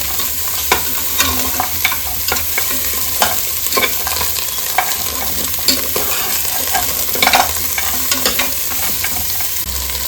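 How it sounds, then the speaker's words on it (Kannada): Goat leg soup ingredients frying in ghee in a pot, with a steady sizzle and repeated scraping and stirring taps from a spoon, close and loud with no talking. "ಈ ರೀತಿಯಲ್ಲಿ ತುಪ್ಪದಲ್ಲಿ ಫ್ರೈ ಮಾಡಿದರೆ ತುಂಬಾ ಚೆನ್ನಾಗಾಗುತ್ತೆ ಸೂಪು."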